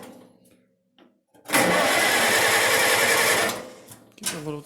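Old Cub tractor engine turned over with a pull starter, a few seconds of loud, rapid mechanical churning that cranks up suddenly and winds down, with quiet speech just before and after.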